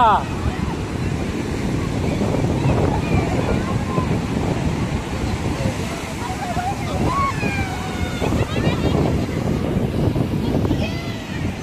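Sea waves wash onto the beach at Puri in a constant, loud roar of surf with heavy wind buffeting the microphone, and voices murmur underneath.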